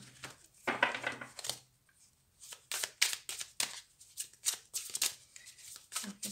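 Playing cards riffled and drawn from a deck for a tarot-style new moon reading, close and fairly quiet: quick papery bursts and flicks in irregular clusters, with short pauses between them.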